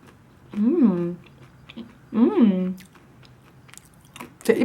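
Two crisp bites and crunches into a crunchy green vegan cracker, close up, each a short burst with a quieter pause between, with faint rustling and soft mouth noises around them.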